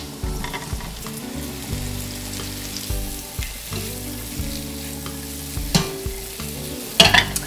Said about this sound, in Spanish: Agregamos el ajo y apenas empieza a dorar, agregamos los champiñones.